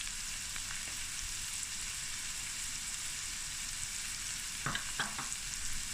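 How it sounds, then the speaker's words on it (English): Vienna sausages and spinach frying in a pan, a soft continuous sizzle with a few brief stirring scrapes near the end. "So we're going to take our time of frying that."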